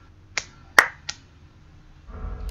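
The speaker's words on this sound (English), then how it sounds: "Clap sync." Three sharp, separate hand claps for recording sync, loud and close with clean gaps between them, followed by a low rumble of background noise.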